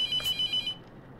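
A telephone rings in the horror game The Mortuary Assistant, one bright trilling electronic ring that pulses rapidly, then stops and leaves a quiet room.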